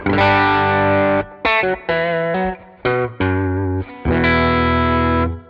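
Electric guitar with mini humbuckers, played on the middle pickup with distortion and chorus, rings out a run of loud sustained chords and short stabs, each left to hang before the next, with no voices.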